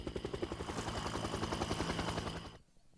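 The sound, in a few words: Huey helicopter landing in a virtual reality simulation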